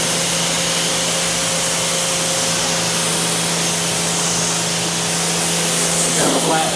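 A strong spray of water rinses soap off a car body panel, making a loud, steady hiss throughout, with a brief faint voice near the end.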